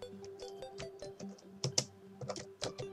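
Keys tapped on a computer keyboard in uneven bursts of sharp, close clicks, with short pauses between the runs and a faint steady hum underneath.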